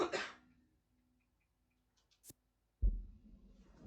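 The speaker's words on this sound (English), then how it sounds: "That's me just coughing again" A man coughs once near the start, a short harsh burst, then a few faint ticks and a loud low thump later, with quiet game ambience trailing off.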